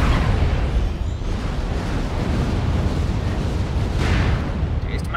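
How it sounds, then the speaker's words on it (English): LRM missile barrages from an Atlas mech in Mechwarrior Online explode in a continuous, heavy roar of overlapping booms and rumbling blasts that holds loud for several seconds. "Taste my missile fury!"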